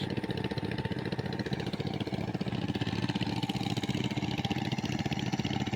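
A tiller fitted with wheels ploughs a muddy, grassy field, its engine thrumming steadily and close with an even pulsing chug throughout.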